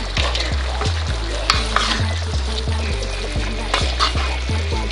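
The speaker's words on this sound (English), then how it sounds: "I'm going to give this a quick stir" Beef lo mein with vegetables stirred in a hot pan: a steady sizzle with a regular run of scraping, clattering utensil strokes about every half second, close and fairly loud, with no talking.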